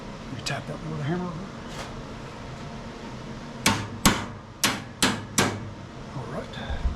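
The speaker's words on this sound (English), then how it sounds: "You tap that one with a hammer." Five sharp metallic hammer taps ring out in quick, even succession during blade deck belt replacement on a Craftsman LT1000 riding mower, after a stretch of quieter activity and speech.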